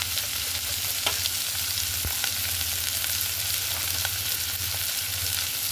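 Fish fat cooking with spring onions in hot oil, a steady dense sizzle and crackle running throughout, with a few sharp pops and spatula scrapes against the pan.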